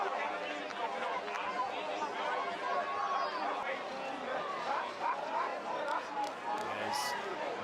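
Spectators in the stands at a Bergen Catholic versus Don Bosco Prep high school football game murmur and chatter as a steady, distant babble.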